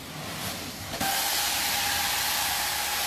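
A quiet hiss builds, then a DangPro 3 steam cleaning wand bursts into a loud, steady spray of steam in a daycare center, hissing evenly without pause.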